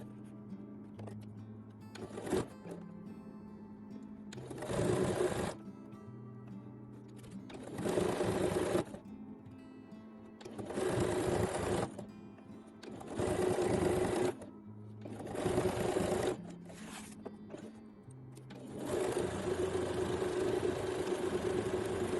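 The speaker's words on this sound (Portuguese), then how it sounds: "Vou passar uma costura numa extremidade e na outra." Sewing machine stitching a seam on a multi-use zippered pouch, humming in repeated bursts of a few seconds each with short quiet gaps, steady and close with no talking.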